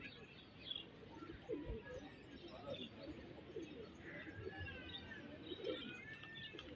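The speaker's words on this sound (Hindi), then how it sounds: "ये देखें दोस्तों, इनके भी कबूतर निकल निकल के आ रहे हैं।" Soft pigeon cooing and scattered bird chirps outdoors at a pigeon-flying hobby site, fairly faint and steady over a low background hum, with a voice murmuring now and then.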